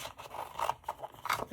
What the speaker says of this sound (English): I think I'll just use scissors